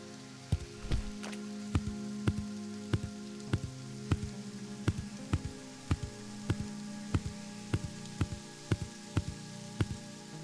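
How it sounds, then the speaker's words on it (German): Rain falls steadily in the farming video game Green Project, a constant wash of patter broken by regular sharp drip-like ticks roughly every half second, with no talking. "Es regnet, das ist gut."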